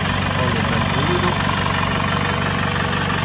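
A Mercedes B180 with about 110,000 km sits idling, its engine a steady, even, quiet hum heard up close without a break, no voices over it.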